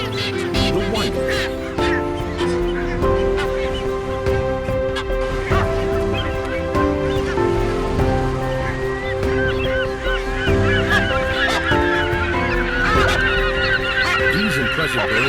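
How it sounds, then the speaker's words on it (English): A breeding colony of sooty terns fills the air with incessant, overlapping high-pitched calls and honking cries, dense and loud throughout with many birds calling at once, near and far. "A breeding colony is seldom, if ever, quiet, as the incessant high-pitched calls sound out."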